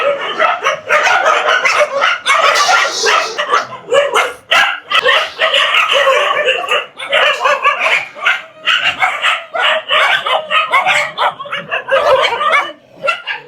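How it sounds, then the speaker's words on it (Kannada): Several street dogs bark loudly and nearby, their sharp overlapping barks and yips coming almost continuously with only brief gaps. "ನಾವಿರೋ ಗಂಟನೂ ಇವು ಬಗ್ಲುತ್ತಾನೆ ಇರ್ತವೆ"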